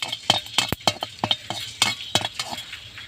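Whole cinnamon, cloves, cardamom and black pepper stirred in a pan on a stove, giving a close series of sharp clinks and scrapes at an uneven rhythm, with no talking.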